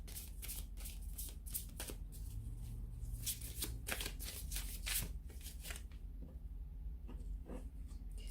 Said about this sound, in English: I'm going to give the Angel Answers card a shuffle here